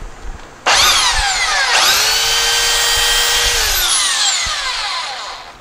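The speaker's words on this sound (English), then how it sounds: "You always want to go with a belt sander with the grain." A belt sander runs along the grain of a wooden workpiece, whining up loudly twice in quick succession, holding a steady high motor drone for several seconds, then tapering off near the end.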